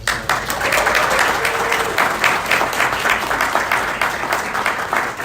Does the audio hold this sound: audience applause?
yes